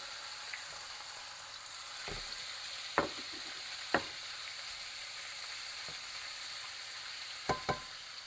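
Steady sizzling of fillet frying in a pan, with a few sharp clinks and taps of a utensil against the pan.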